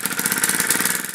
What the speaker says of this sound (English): the engine runs surprisingly well for being so basic